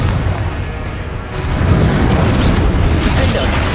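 Fiery Confringo spell blasts in Hogwarts Legacy combat, a sustained loud booming roar with a dense rumbling wash that swells midway and stays heavy throughout, no voices.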